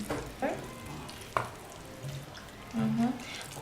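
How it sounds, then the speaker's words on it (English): A spoon works through wet dumpling meat filling in a bowl, giving soft squelching stirs and a few sharper clacks against the bowl side, close and moderately loud, with scattered quiet speech. "you stir it until it absorbed"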